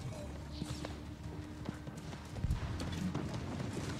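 Horse hooves clip-clop in the video game New World, an Everfall invasion battle, a steady run of light, medium-near hoofbeats beneath constant game noise and voice chat.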